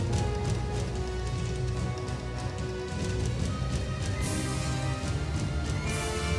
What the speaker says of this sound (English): whenever you battle underwater in the game, I think they added some kind of echo or Doppler effect to the music